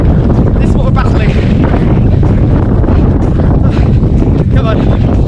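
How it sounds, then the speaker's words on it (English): A strong headwind buffets a runner's microphone in a constant loud roar and rumble, masking nearly everything, with faint breathing or voice sounds buried underneath. "This is the headwind."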